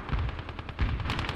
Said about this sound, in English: Just keeping an eye out on the kill feed to make sure that the gunshots that I hear are good gunshots